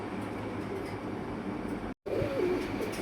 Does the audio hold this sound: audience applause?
no